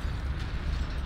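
Dense, rumbling explosions in the city-destruction video game City Smash roll together in a continuous low boom, loud and close, with crackling bursts layered over the barrage.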